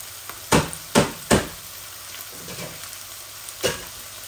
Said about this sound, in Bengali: এখানে পেঁয়াজ কলি, আলু অল্প আর কলিফ্লাওয়ার দিয়ে দিচ্ছি